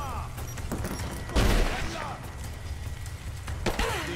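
Rapid bursts of gunfire in the video game Rise of the Tomb Raider with a heavy boom in the middle, under excited voices talking over it.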